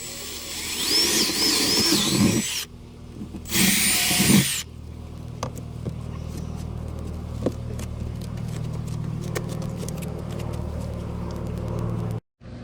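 A power drill whines loudly in two short bursts, then a lower steady grinding hum continues as the bit works through a bass boat floor, ending with a brief cutoff.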